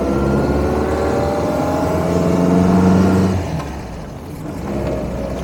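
A 1949 MG TC roadster heard from inside while driving, its engine humming steadily under a loud broadband road and wind rush that eases briefly, with no one talking.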